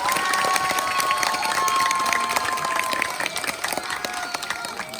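A crowd at an outdoor ecology and spirituality music festival gives loud, steady applause with some cheering and a high whistle, fading slightly toward the end.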